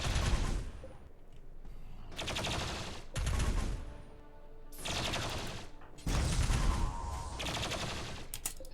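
Rapid bursts of gunfire from colonists shooting in the RimWorld video game, several loud volleys cracking in close succession with brief gaps between them.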